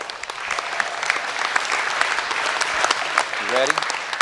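Audience clapping for exhibitors at the 2016 North American International Livestock Show sheep show, a steady patter of applause in a large arena with a voice briefly breaking through near the end.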